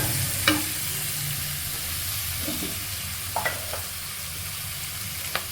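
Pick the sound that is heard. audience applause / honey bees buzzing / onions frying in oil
onions frying in oil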